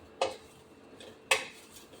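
Thuthuvalai leaves dry-roasting over a low flame in a pan, with two sharp scraping clinks of a spatula against the metal about a second apart over a quiet background.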